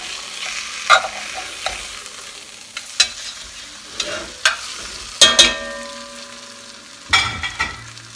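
Flour-dusted beef for pot roast sizzling in a hot pan as it is stirred and flipped, with a loud hiss and sharp clanks of the utensil against the pan at irregular intervals.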